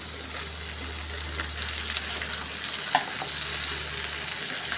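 Sliced bitter gourd fries in a pan with a steady, dense sizzle and a faint crackle. There are occasional soft stirring scrapes, and the sound stays close and continuous with no speech.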